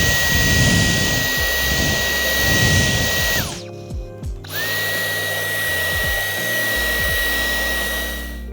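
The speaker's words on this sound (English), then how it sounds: "So now we're going to try to vacuum it up and see how much food is trapped." A vacuum cleaner drones loudly and steadily over dirty car floor mats, its motor cutting out briefly and dropping to bumps and knocks before starting up again and running on close by.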